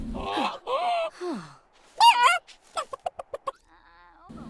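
Hen clucking in The Sims 4, a series of short voiced clucks and groaning squawks, ending in a quick run of five sharp rhythmic clucks, close and clear against silence.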